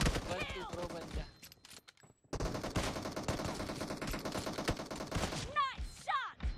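Gunfire in PUBG Mobile, bursts of rapid automatic shots rattling across the clip with a brief gap, while players talk over the shooting.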